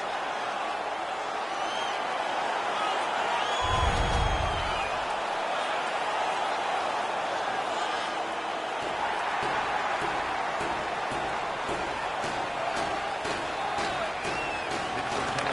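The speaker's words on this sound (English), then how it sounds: "The crowd is ecstatic." A video-game hockey arena crowd in NHL 17 cheers after a fight during a Senators at Penguins game, a sustained roar with a brief low thump partway through, while organ-like tones and arena noise carry on.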